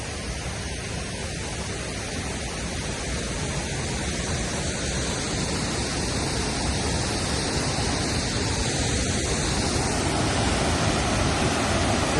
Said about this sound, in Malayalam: ഭയങ്കര സൗണ്ടാണ് വെള്ളച്ചാട്ടത്തിന്റെ